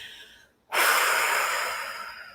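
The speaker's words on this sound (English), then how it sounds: "Take a deep breath." A single deep breath, drawn in audibly through the nose or mouth after a brief pause, is close and airy and trails off slowly.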